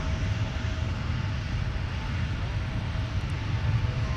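Airliner taking off from runway 17 at Minneapolis–Saint Paul airport, a steady loud jet engine roar with low rumble held throughout, no voices.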